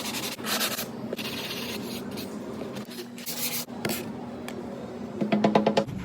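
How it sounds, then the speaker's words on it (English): A dried concrete sink is sanded flat, giving steady rough abrasive rubbing with a few brief pauses and a faster rhythmic scrubbing near the end, close and fairly loud with no talking. "I'm gonna sand it flat, get it all nice and pretty."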